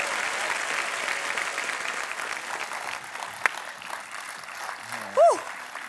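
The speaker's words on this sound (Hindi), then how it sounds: "जोरदार तालियां अनुष्का के लिए" A studio audience applauding on the Kapil Sharma comedy show, a steady wash of clapping that fades after about three seconds, followed by a brief tonal whoosh near the end.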